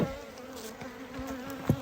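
Agitated honey bees hum around an open hive during a subarctic August inspection, a steady close drone with a few sharper passes near the microphone.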